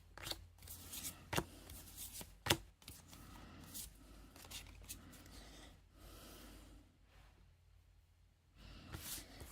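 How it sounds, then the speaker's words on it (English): A deck of playing cards is shuffled in several quick riffling bursts, close and fairly quiet over a low background rumble, with short pauses between bursts. "And look at this, Irene, on the bottom of this deck that I was just shuffling."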